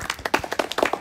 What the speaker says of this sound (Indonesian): Tepuk tangan dulu lah.